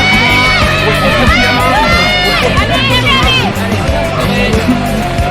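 A loud crowd cheers and shouts continuously at a regional cross-country championship race, with excited voices and clapping blending into a dense, lively roar.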